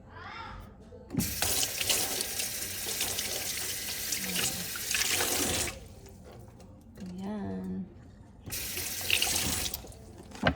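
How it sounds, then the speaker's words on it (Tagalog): Grilled eggplant is rinsed under a running kitchen tap, the water hissing and splashing in bursts with pauses between, close by, while a voice talks at moments. "Huhugasan ko siya para mawala yung itim-itim."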